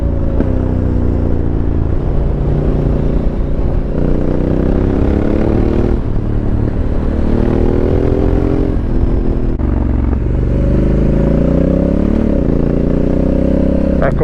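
Honda Africa Twin motorcycle with an aftermarket exhaust riding along country lanes, its engine note droning loud and steady, with pitch rising and falling through several throttle changes and gear shifts.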